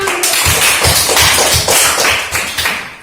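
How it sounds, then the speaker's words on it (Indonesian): Schoolchildren in an elementary mathematics classroom clap hands together in a rhythmic pattern, close and loud, with evenly spaced beats repeating throughout. "Tepuk tangan."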